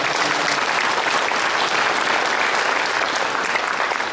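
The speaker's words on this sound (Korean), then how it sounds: "주께 영광의 박수 한번 드립니다." A church congregation applauds to give glory to God, dense sustained clapping from a large crowd, even and unbroken throughout.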